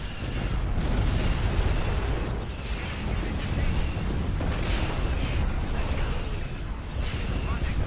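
Space battle in Empire at War around a station under attack, with a Mon Calamari cruiser and heavy quad turbolasers: dense, rumbling weapon fire and overlapping booming explosions roll on continuously, with sharper bursts standing out from the din.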